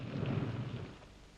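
Rain with a low rumble of thunder, a soft rolling boom that swells and fades over a brief moment against a faint hiss of rainfall.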